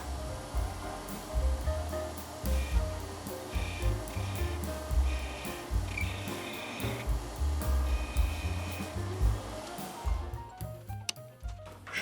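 A metal lathe cuts a large internal chamfer on a car part, giving a steady, dense grinding and whirring with scattered ticks that runs loud and close for about ten seconds, then drops off sharply near the end.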